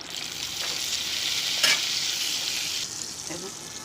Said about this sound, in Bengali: তরকাটা এবার চাটনির মধ্যে দিয়ে দিচ্ছি